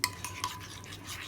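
Chicken is stirred together with yogurt and ground chili paste in a bowl. A few sharp utensil clicks and scrapes ring out against soft, wet mixing sounds at close range.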